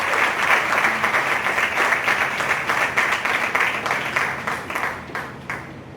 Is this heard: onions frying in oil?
no